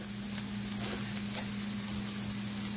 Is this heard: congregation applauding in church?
no